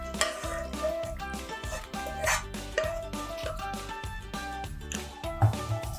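Paneer pieces being stirred into a simmering dhaba-style masala curry in a pan, with steady scraping and gentle sizzling under a layer of background music.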